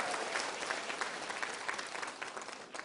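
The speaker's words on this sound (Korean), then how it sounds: "박수 소리가 너무 작아요" Thin, scattered applause from a lecture hall audience, a modest patter of hands that stays fairly even for a few seconds with no voices on top.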